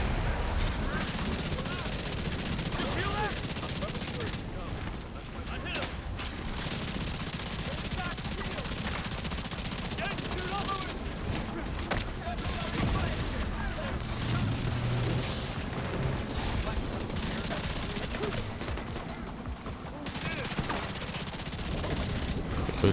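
Sniper fire and other gunshots in a firefight in the video game The Division 2 crackle over a dense, steady bed of battle noise, with bursts of louder shots and a player talking intermittently.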